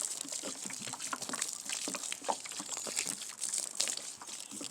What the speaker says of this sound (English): So just gonna take the jug and pour it around.